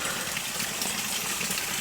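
Water pours steadily from a sacred spring well, a constant close rushing gush with no breaks or voices over it.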